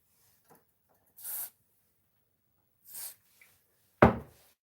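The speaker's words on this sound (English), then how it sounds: "Bit of electrical spray in the motors." Electrical contact spray is shot into drone motors in a few short hissing bursts separated by silence, followed by a sharp knock near the end.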